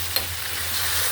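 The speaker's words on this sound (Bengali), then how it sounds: "মশলাটা একটু ভাজা ভাজা করে নিই।" Spice paste of ginger, garlic and onion with salt, frying and being stirred in a pan: a steady close sizzle with a single sharp scrape of the spoon near the start.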